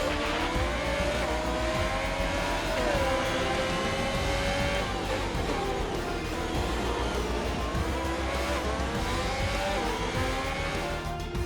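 An F1 race car in the video game F1 2021 at the Belgian Grand Prix, its high engine whine rising and falling continuously with gear changes, loud and alone with no talk.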